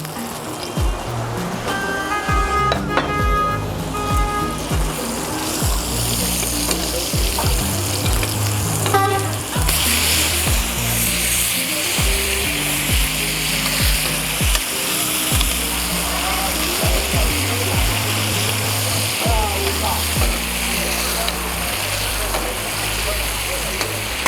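Steak frying in a pan with a generous knob of good butter, a steady loud sizzle and crackle running throughout, with a voice speaking over it.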